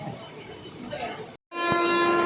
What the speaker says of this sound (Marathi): चला तर आमची ट्रेन आली